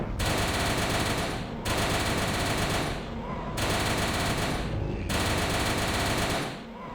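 A custom seventh weapon from the Dead as Disco pack for Doom fires in long, loud, continuous automatic bursts, broken by three brief pauses between sustained volleys.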